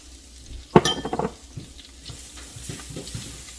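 Garlic dropped into a hot pan for shrimp scampi sauce, a sharp clatter and burst of sizzle followed by a soft, steady frying crackle, close and with no talking.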